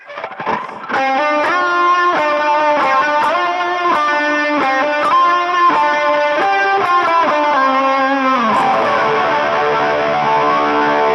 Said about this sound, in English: I'm going to switch to just the Matchless, and I'm going to stick on a boost. I'm going to leave my flanger on though.